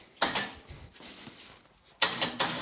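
Polaris Sportsman ATV winch reeling in a plow blade, giving two bursts of creaking, ratcheting mechanical whir separated by a quieter stretch of low rattling, close by with no talking.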